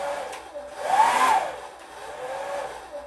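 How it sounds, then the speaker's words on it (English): A simple, lightweight two-speed blow dryer runs steadily nearby, its whirring airflow swelling briefly louder in the middle before settling back to an even hum. "It's your simple basic blow dryer, but it's super duper lightweight."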